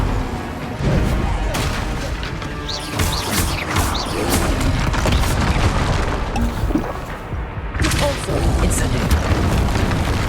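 Incendio fire spell blasts in the video game Hogwarts Legacy, loud booming bursts and crashing impacts repeating densely over a continuous roar of combat sounds.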